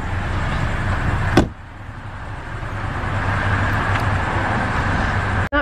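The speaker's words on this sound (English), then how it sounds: "Ella, close the door." A car door shuts with a single solid thump about a third of the way in, then a second closing sound at the end, over a steady hum of a vehicle interior and road noise.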